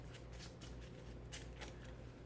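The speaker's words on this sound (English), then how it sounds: "Okay, so we shuffle up the initiative cards" Initiative cards for the tabletop game Split Second are shuffled by hand, a soft continuous riffling and sliding of card stock with a few sharper flicks, close and fairly quiet with no talking.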